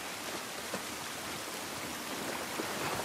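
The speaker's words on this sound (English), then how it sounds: "It's raining better than we get." Rain in The Last of Us Part 1 falls outdoors as a steady, dense hiss of drops, constant and fairly soft with no voices over it.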